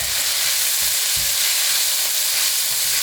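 Lamb mince and chickpea curry cooks over a high gas flame with a loud, dense frying hiss, broken by a few soft low thumps of stirring in the pan.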